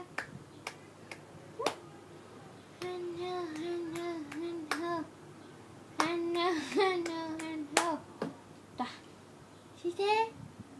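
A 7.5-month-old baby claps, making sharp, irregular slaps spread across the stretch. An adult talks and sings in a lilting, encouraging voice throughout, with some baby babble in between.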